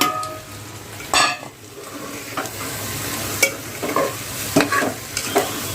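Masala frying and being stirred in a pan for a tondli (ivy gourd) vegetable dish, with a steady sizzle punctuated by several sharp scrapes and clinks of the spoon against the pan, close and fairly loud, with no talking.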